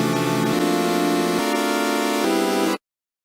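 Bright, buzzy Massive synth Polysaw with detuned saw oscillators sounds four sustained chords in a row, loud and dense with harmonics, then cuts off abruptly into silence.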